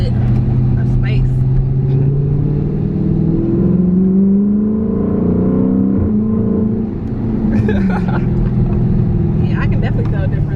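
A 2018 Dodge Charger Daytona 392 fitted with a Z Automotive Tazer rumbles and revs, its deep engine note rising and falling over several seconds while people talk over it.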